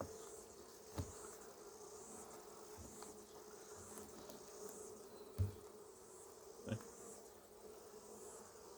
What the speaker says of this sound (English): Busy bees.